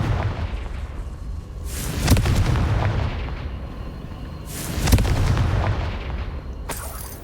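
Confringo blasting spells explode in Hogwarts Legacy, two heavy booms about three seconds apart, each followed by a rumbling decay, with a third blast starting at the end.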